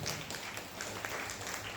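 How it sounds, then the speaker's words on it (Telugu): Church congregation at a Sai devotees' gathering breaks into sustained, dense applause, a steady wash of many hands clapping throughout with a faint voice underneath. "ఒకసారి గట్టిగా చప్పట్లు కొట్టండి"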